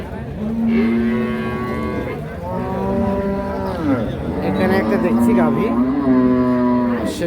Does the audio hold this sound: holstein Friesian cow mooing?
yes